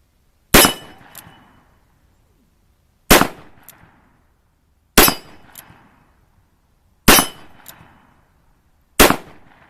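Five sharp gunshots from a Taylor's Uberti revolver with a modified hammer and firing pin, fired at steady intervals of about two seconds, each a loud crack with a short ringing decay outdoors.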